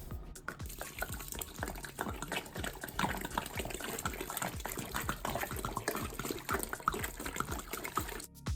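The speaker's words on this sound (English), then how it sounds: "Here comes a gallon of colder water." A gallon of cold water pours into a brewing pot of thick mash for a caramel millet lager, a continuous close splashing gush and trickle for several seconds with no talk.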